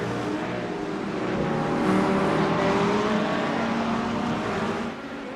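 Porsche race car engine droning steadily on a circuit at Zandvoort, a continuous harmonic whine that swells slightly mid-run then eases near the end, heard fairly close with no talk.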